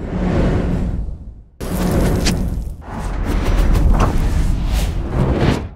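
Whoosh sound effects for a toon-style 3D logo animation, a series of loud, broad rushing swooshes in quick succession with abrupt starts and fading tails, no talking.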